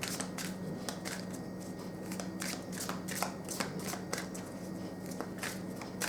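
Tarot cards are shuffled continuously at close range, a steady dense riffling and sliding of cards with quick irregular flicks and no voices.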